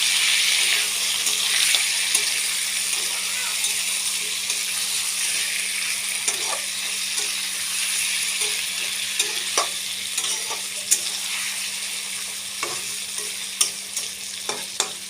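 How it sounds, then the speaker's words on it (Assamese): Chicken with chili powder frying in a pan while being stirred, a steady close sizzle broken by scattered scraping clicks of the spoon against the pan. "ভালকৈ লৰাই দিম, তলত লাগি নধৰে"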